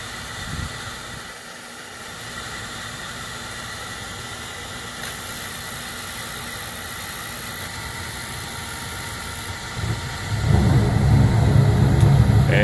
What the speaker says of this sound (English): I still hear sparking on what I believe is the second circuit.